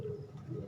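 Soft, low cooing from Thunder breed pigeons in a loft, a steady murmur running through the short moment with a slight swell near the end, no talking over it.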